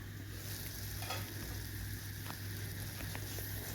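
Spice paste for a hilsa curry with potatoes fries in a pan, giving a steady close sizzle with faint stirring scrapes and light crackles throughout, no voices.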